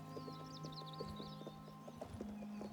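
Horses in a stable in the video game Oblivion clop their hooves in a quiet, irregular rhythm, with steady faint tones and distant bird calls around them, and no speech.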